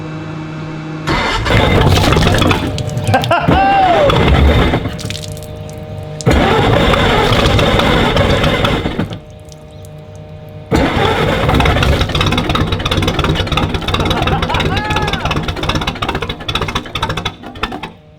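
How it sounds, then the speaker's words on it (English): A vintage boat engine cranks and sputters to life in several bursts, loud and close, with churning cranking spells separated by pauses before it catches and runs rough. "Pull ignition switch to on position. Pump throttle lever a couple of times."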